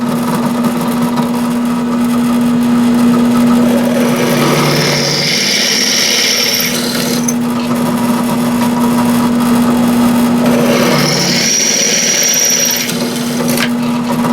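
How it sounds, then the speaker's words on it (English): A drill press bores a 1/4 inch hole, a loud steady motor hum running throughout with two stretches of higher grinding as the bit cuts into the workpiece, close and without speech. "Now I'm ready to drill the 1/4 inch hole."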